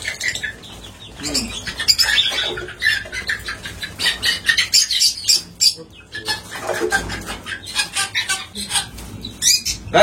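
Chickens being moved into a cage squawk in short, irregular bursts with flapping and scuffling, close and fairly loud throughout.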